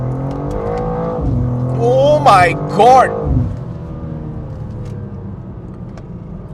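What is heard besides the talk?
BMW G87 M2 accelerating on the road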